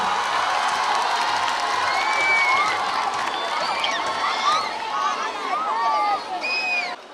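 A crowd of students at a school recreation event cheering and applauding in a dense, loud wash of shouts, whoops and clapping that swells and holds, with voices calling out throughout.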